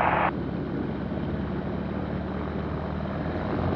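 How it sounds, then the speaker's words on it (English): The engine of a Zenith CH-701 homebuilt STOL airplane running up before flight, a steady, loud propeller drone that holds even throughout and swells briefly at the very end, with no talking. "We're about ready to do a little run up here."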